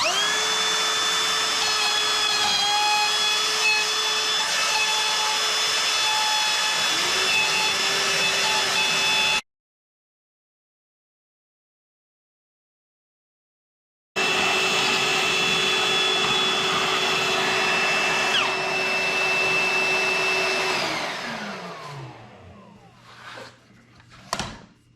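A router with a template guide cuts a mortise in wood, a steady high-pitched whine running loud before a short silence, then resuming and winding down at the end as the motor stops.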